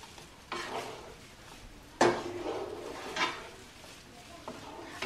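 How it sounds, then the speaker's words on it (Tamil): A spoon stirs a thick Mysore pak mixture of ghee and sugar in a pan. It scrapes and knocks against the metal, with one sharp clack and softer scraping strokes that repeat at irregular intervals. "இடைக்கடை கொஞ்சம் நெய் போட்டுக்கிட்டு அப்படியே நீங்க பட்டு கிளறி விடுங்க அடி பிடிக்காம"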